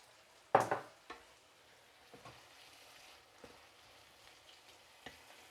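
Beef with bell pepper and ginger frying in a pan: a loud sizzling burst as food hits the hot surface, then a steady soft sizzle with occasional light clinks and scrapes of stirring.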